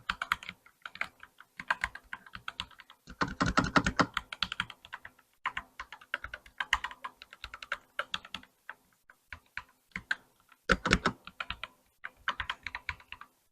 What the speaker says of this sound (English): let me type something so that you can hear the keyboard